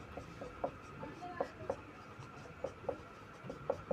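Pen or chalk scratches out a Class 10 maths solution by the elimination method, with faint, quick strokes and ticks in an uneven rhythm, quiet and close.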